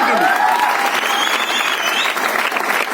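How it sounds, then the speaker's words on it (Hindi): Loud, dense applause from a large crowd, steady clapping with a few whistles cutting through. "जोरदार तालियां मॉम के लिए।"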